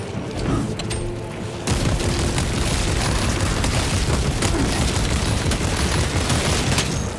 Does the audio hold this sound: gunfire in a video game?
yes